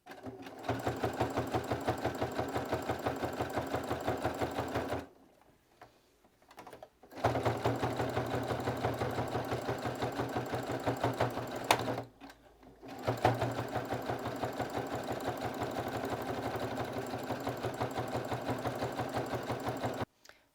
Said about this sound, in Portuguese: eu vou passar um zigue-zague aqui na volta inteira